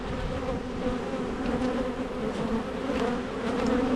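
Dense, continuous buzzing of many honey bees at an open Long Langstroth hive during inspection, close range, a steady droning hum with no talking.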